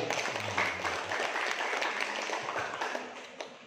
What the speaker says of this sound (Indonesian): Sekali lagi beri aplaus yang kuat.